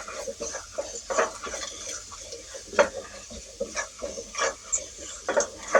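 A pan of spices with coriander powder and garam masala for prawn biryani is stirred, giving repeated rhythmic scrapes and soft clatters over a low background sizzle.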